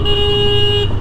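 A vehicle horn sounds as one steady, loud sustained tone on a road, held for about a second.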